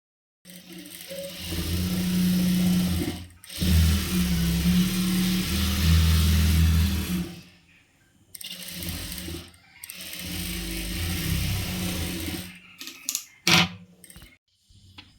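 A sewing machine runs in several long bursts, stitching a folded chudidar back neck edge, with short pauses between runs and a few light clicks and handling noises near the end.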